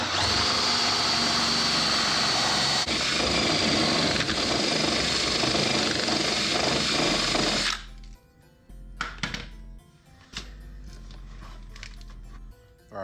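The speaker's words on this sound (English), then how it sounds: "we're gonna go ahead and let it rip and drill right through" A power drill bores through the hull of a Seadoo Spark personal watercraft to make an exhaust outlet hole, whining loudly and steadily for about eight seconds before stopping, followed by quieter clicks and handling noises.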